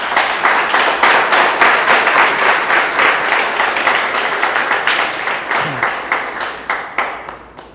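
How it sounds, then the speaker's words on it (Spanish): Loud audience applause for Snorri at a poetry book presentation, many hands clapping with a pulsing, roughly rhythmic beat that gradually thins and softens toward the end. "un aplauso para Snorri y para ustedes"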